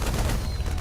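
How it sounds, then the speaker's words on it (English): Rapid explosions and gunfire from a StarCraft II battle between Zerg mutalisks and hydralisks, dense and continuous with heavy low booms throughout, no pauses. "So many explosions!"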